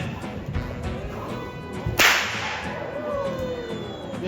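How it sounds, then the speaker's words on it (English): A stockman cracks a merino wool stockwhip at a farm show, giving one sharp, loud crack after a few soft swishes, with outdoor ambience before and after. "And this is how we crack the whip."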